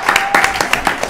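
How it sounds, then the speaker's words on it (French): A small audience at a youth club gathering claps loudly and close by, with separate, fairly rhythmic hand claps and a voice speaking over them. "On les applaudit bien fort."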